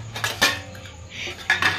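Steel utensils, pots and pans clatter and clink while being washed by hand, a few sharp metallic knocks over a constant background of rinsing and handling, close to the listener.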